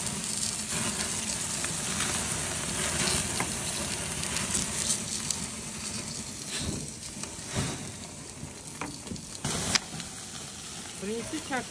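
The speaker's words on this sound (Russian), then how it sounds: "Братишка мой мне шашлычка сегодня на день рождения жарит." Shashlik meat sizzles and crackles steadily on a hot grill, a constant hiss up close, with voices and some clatter mixed in.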